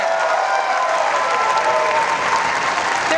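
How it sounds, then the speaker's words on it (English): Audience applause at a university invention prize final, a dense, even wash of clapping from a large crowd that holds steady throughout. "There's always room for applause."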